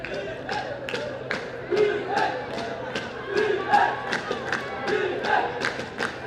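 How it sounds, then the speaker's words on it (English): A crowd cheers and shouts steadily, with rhythmic thumps or claps beating through the noise. Loud and continuous, like spectators at a live women's ultimate frisbee final, the last game of a tournament. "You really hear the Singapore contingent in the crowd right now."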